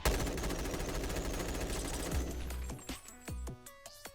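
M16 rifle fire in the VR game Bonelab, as a rapid automatic burst of sharp, evenly spaced shots that turns into several separate single shots with ringing decay, close and punchy.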